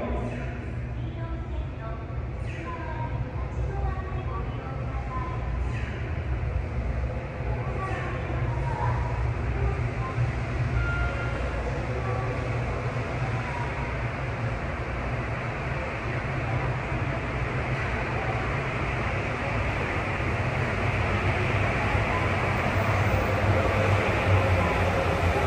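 A Makomanai-bound Sapporo subway train pulls into platform 1 at Asabu Station with a steady, loud rumble and rushing roar that holds throughout, under recorded platform announcements.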